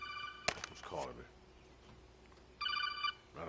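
Electronic phone ringtone from an incoming call while playing Metal Gear Solid 3 Delta, a bright trilling ring in two bursts separated by a pause, with a short voice fragment between them.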